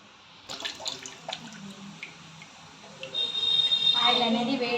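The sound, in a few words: rice flour pakoda frying in hot oil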